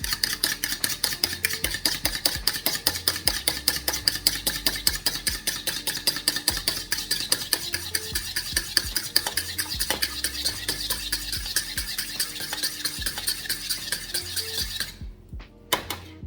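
Two eggs beaten in a bowl with a utensil while making banana bread, a fast, steady rhythm of sharp clicking strokes against the bowl continuing for many seconds before stopping abruptly near the end.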